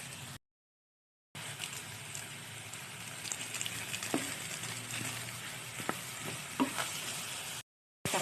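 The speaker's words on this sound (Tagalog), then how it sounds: "Lalagyan natin ng patis para natin na maisangkot siya." Chicken sautéing in a pan for tinola as fish sauce is added, with a steady close sizzle and frying hiss, scattered stirring clicks and scrapes, and two short silent gaps.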